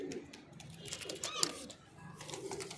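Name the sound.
pigeons cooing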